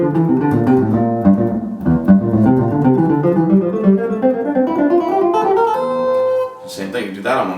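Electric guitar playing a fast two-note intervallic pattern in thirds up a scale along the neck, a steady run of picked notes at close range ending on a held note, with no talking.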